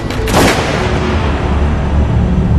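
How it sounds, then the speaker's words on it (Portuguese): A single loud gunshot cracks near the start, then a long booming, reverberant tail lingers under dark ambient noise. "e puxa o gatilho."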